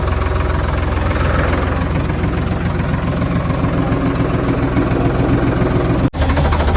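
A tractor engine idles loud and close with a steady low rumble and a rhythmic knocking throb that runs unbroken until a brief cut near the end, with no voices.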